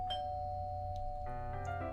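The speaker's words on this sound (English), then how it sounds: "I walk up and ring the doorbell." A doorbell in the Doki Doki Fallen Angel video game, a clear two-tone chime heard once, moderately loud over a faint steady background hum.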